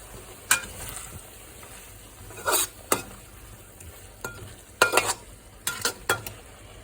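Yacon stir fry being tossed through a sweet sauce with rice vinegar in a pan, with intermittent sharp spatula scrapes and clacks against the pan over a soft, quiet sizzle.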